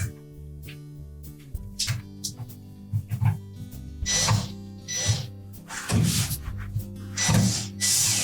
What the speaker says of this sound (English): And then we'll go ahead and tighten them all.